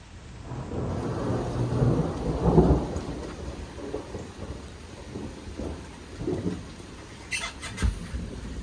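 Thunder rumbles loud and close through a steady rain, swelling into a heavy roll early on and then easing into quieter grumbles, with a sharp crackle near the end and no one talking.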